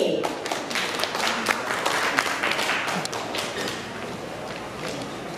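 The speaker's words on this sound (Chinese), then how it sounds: "来，我们掌声欢迎李主秘。" Audience applause welcoming a speaker at a temple preparatory meeting in Yangmei, a steady broadband patter of many hands clapping at moderate level, continuing evenly for several seconds without talk.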